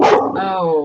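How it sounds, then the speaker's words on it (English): A dog barks once, loud and close, a short harsh bark trailing into a tonal whine, with a man's brief exclamation at the start. "Oh, dog, you're gonna have to not bark."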